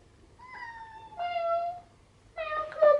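A house cat being cat-sat for the weekend meows three times in a row, clear, close, rising plaintive calls, with the last one the loudest.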